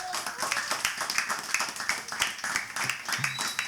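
An audience at a crypto panel discussion claps along, a sparse, uneven patter of individual hand claps rather than a full ovation, moderately close with faint voices underneath.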